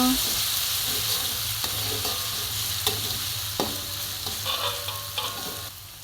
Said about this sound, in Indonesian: Lalu tumis-tumis sampai matang dan juga mengeluarkan bau harum.